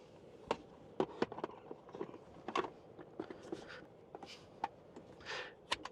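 Adhesive backing peels off a Tesla Model Y Refresh accessory in a series of sharp, close crackles and ticks, scattered irregularly over a quiet background.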